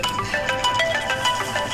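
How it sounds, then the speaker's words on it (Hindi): A mobile phone ringtone rings during a scene from the film Hridayapoorvam, a steady electronic melody of repeating tones at moderate loudness that continues throughout the short moment. "तुमने मेरा फोन बजते नहीं सुना?"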